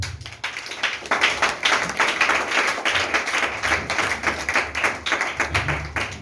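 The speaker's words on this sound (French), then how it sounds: "Acclamons pour sa main." Congregation applauding and cheering during a French-language church sermon, sustained dense clapping throughout at steady loudness, with a low rumble of room noise beneath.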